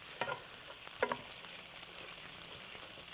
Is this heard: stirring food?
yes